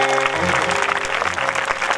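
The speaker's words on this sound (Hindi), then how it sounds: "और इस धाम में तालियां बजा रहे" Audience applause at a Bhojpuri katha, a religious storytelling gathering in Deoria, with steady dense clapping from a crowd filling the whole stretch alongside a sustained musical drone and faint harmonium-like tones.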